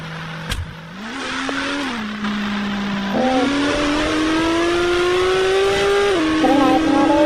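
A car driven in the Indian Bike Driving 3D video game hums loudly and continuously, its engine pitch stepping up through gear changes and climbing steadily, with a sharp click near the start.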